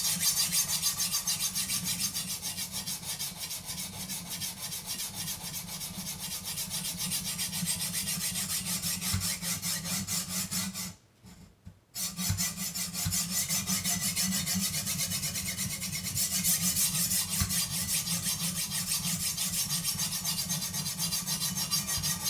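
A blade edge scrapes steadily against a sharpener as its bevel is ground, a constant close rasping hiss with a brief pause near the middle before it resumes.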